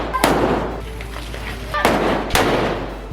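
Lima Fireworks novelty firecrackers bursting outdoors, three sharp loud bangs spaced apart with crackling hiss between them.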